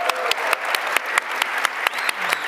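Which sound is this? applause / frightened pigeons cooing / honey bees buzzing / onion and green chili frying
applause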